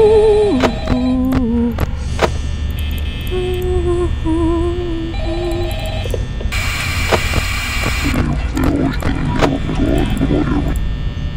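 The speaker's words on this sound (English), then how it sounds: "I don't know why the phone's ringing." A phone rings during the Five Nights at Freddy's horror video game, bursts of electronic tones repeating over low game ambience, with a voice talking over part of it.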